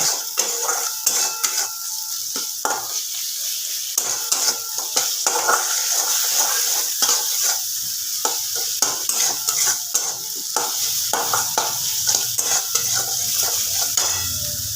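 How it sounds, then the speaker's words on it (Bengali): Spice masala with a pinch of sugar sautés for a pointed gourd curry, sizzling and frying steadily in the pan while a spoon stirs with repeated close scrapes and clacks, no talking. "এবার মশলাটাকে খুব ভালোভাবে কষিয়ে নেব"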